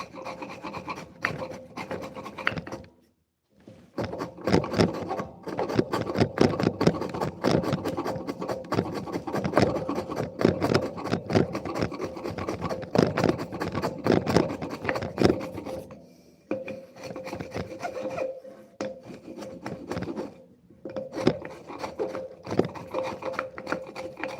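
A sharp chisel pares wood on a butcher block mallet, close and crisp, in a run of rapid rasping strokes broken by short pauses around the third and sixteenth seconds.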